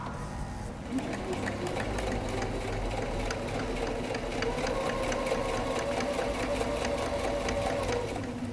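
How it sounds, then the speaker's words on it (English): A sewing machine stitches a quarter-inch seam allowance in a steady, continuous run of rapid needle clatter close by, unbroken for several seconds. "Then sew with 1/4 inch seam allowance."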